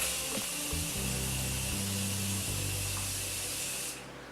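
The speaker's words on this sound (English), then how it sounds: "I'm just going to blend this all in with a little bit of my Morphe setting spray." A continuous fine spray of Morphe makeup setting spray hisses steadily close by onto a face for several seconds, then cuts off abruptly near the end.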